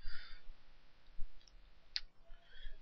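Single computer mouse click on a download button, a brief sharp tick set against faint room noise, with no other sounds around it.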